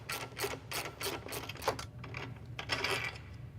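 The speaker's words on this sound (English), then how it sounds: "Remove the rear bolt and the aluminum spacer from the ski mounting block on the spindle." Close, quiet metallic clicks and rattles come as a rear bolt and aluminum spacer are removed from a snowmobile ski mounting block on the spindle, a rapid irregular series of ticks and light clinks.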